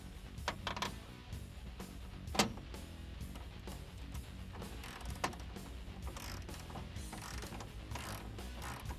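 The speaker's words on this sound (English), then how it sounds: "Go ahead, get my socket on the nut that's on the back." A socket ratchet tightens a 19mm nut on a rear chassis X-brace of a 2005-2014 Ford Mustang coupe, giving soft, fairly close clicking bursts over a low background hum.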